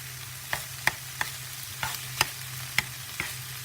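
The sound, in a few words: tofu frying and being tossed in a pan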